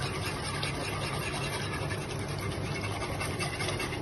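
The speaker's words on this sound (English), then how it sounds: "when you're putting the roux in, you gotta whisk it nicely so that there aren't any lumps" Steady scratchy whisking of a roux for mac and cheese, a continuous close rasp of the whisk in the pan that keeps an even level throughout, with no voices.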